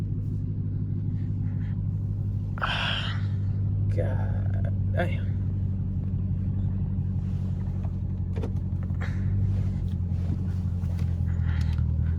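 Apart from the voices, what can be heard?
loud Dodge Hellcat engine driven hard on wet roads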